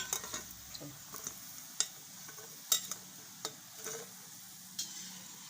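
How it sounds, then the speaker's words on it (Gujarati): Moong dal kachoris fry golden brown in hot oil with a soft, steady sizzle, broken by scattered clicks and taps of a utensil stirring in the pan. "તો આપણે બધી આ રીતે બધી તળી લેવું"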